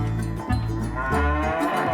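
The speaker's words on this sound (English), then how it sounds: "The Brahman calf. These large cattle have their origins in India." A Brahman calf moos in two long, loud, close calls with a short break between them.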